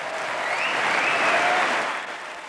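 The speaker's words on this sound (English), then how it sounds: "He gets the most applause." Sustained applause from a large crowd, swelling slightly in the middle, with a faint voice or tone briefly audible within it.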